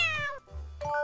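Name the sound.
cat meowing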